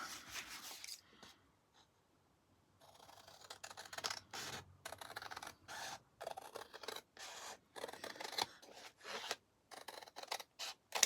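Scissors cut down a sheet of paper for a dark Alice folio, giving steady, close snipping and rustling strokes in a rhythmic series after a brief quiet start.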